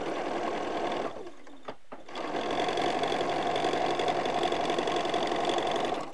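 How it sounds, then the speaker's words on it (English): Sewing machine stitching along the long edge of quilt triangle pieces, a steady close mechanical whir running continuously with a brief pause near the start. "we're going to align the two sides along the long edge of your triangle pieces, and I'm stitching right along the side."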